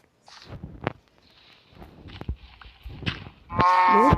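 A cow lets out a loud, close moo near the end, preceded by scattered thuds, shuffles and footsteps.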